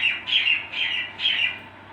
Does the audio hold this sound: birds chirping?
yes